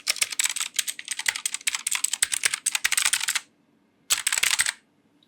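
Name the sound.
typing on AULA S2022 mechanical keyboard with blue switches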